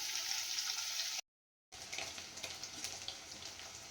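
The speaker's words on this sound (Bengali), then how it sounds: "এবার এটাকে আমি ভেজে নেব" Paneer seasoned with Kashmiri chili, turmeric and a little salt frying in a pan, a steady loud sizzle that cuts out briefly and then resumes with small crackles.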